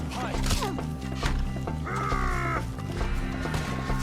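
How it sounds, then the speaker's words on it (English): A crow caws in the Western open-world game Red Dead Redemption II, a few short calls heard amid a busy gunfight mix of music, shouting and effects. "The crow is in for a feast."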